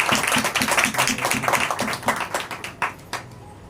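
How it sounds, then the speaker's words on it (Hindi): A church congregation claps in welcome for a family, a dense burst of many hands that thins out toward the end into a few scattered, louder claps. "मैं चाहता हूं कि इस खानदान के लिए जरा 2000 तालियां बजा दे"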